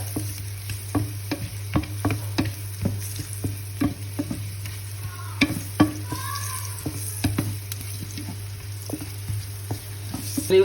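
Ginger stirred and sizzling in a hot pan, with repeated scraping utensil strokes over a steady frying hiss; close and moderately loud, no talking.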